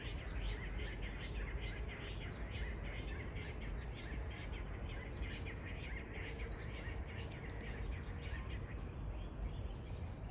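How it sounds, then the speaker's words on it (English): Birds chirp at sunrise in Africa, small scattered tweets sounding faint and somewhat distant over a steady outdoor hiss that runs throughout. "I'm trying my best to let y'all see some birds, but y'all, you know I can't control these birds."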